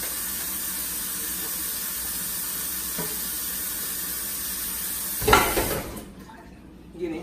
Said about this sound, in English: Put your livers off in it.